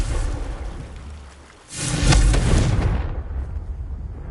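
A Confringo blasting spell explodes in Hogwarts Legacy, a sudden loud rumbling blast that swells and then fades into a long crackling tail, with no voices.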